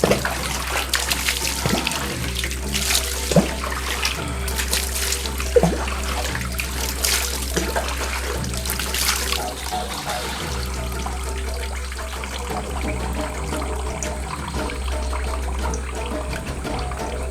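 Cold water poured over a bather at midnight in an old princesses' bathing place; steady, close splashing and trickling runs continuously throughout, with no talk.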